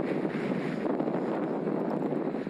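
Strong wind buffets the microphone during a road bike ride, a continuous loud roar with no break across the whole stretch.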